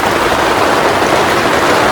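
Heavy rain pours steadily on a tent at a hilltop campsite, a dense, continuous hiss close by with no pauses and no voices.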